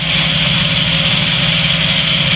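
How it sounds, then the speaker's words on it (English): A light aircraft engine warms up while the plane taxis. It gives a loud, steady, close drone with a constant buzzing tone and no change in pitch. "We're letting the engine warm up."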